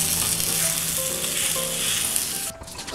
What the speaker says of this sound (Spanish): Primero pongo aceite. Echaré masa para que no se pega.